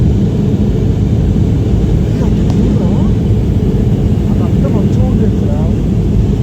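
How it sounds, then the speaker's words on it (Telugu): A plane coming in to land is heard from inside the cabin on a trip to Ladakh over desert mountains, a loud steady engine and airflow rumble that holds throughout, with voices talking over it. "plane is landing"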